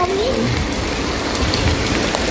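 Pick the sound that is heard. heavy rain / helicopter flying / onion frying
heavy rain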